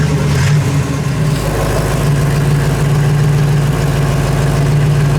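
A 1965 Ford Mustang Convertible engine idles with a deep, steady rumble and a faint rattling vibration from the exhaust, loud and close, with no talking.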